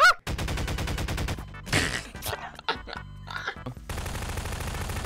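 Rapid pistol shots ring out in Garry's Mod, a quick string of sharp cracks followed by scattered heavier hits and impacts, with another burst of fire closing it out, loud and close.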